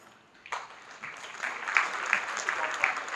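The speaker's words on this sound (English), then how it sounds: "Golf clap." Polite golf clap from a panel audience at a Chicago fan convention: soft, scattered hand claps rising gradually over about three seconds, thin and unhurried rather than a roaring ovation.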